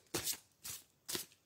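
Tarot cards are handled and shuffled in three quick, close riffling bursts, each a short papery flutter separated by brief pauses.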